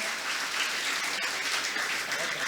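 An audience at a Hindi poetry gathering (kavi sammelan) held at a college breaks into dense, continuous applause, a steady wash of many hands clapping throughout, moderately loud and without speech.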